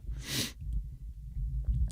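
A single sharp sneeze bursts out at the start, followed by quiet breathing and soft rustling.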